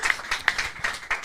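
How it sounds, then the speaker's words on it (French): A small French audience claps for Max, with sparse, uneven handclaps from a few people, close by and fairly light, lasting only a moment. "On applaudit Max."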